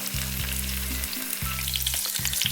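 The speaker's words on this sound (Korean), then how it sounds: "5면을 전부 노릇하게 둘러가면서 기름을 둘러가면서 지져내 주시면 돼요" Tofu blocks frying in a generous layer of oil in a pan, browning on all five sides, giving a steady close sizzle and crackle throughout with no talk.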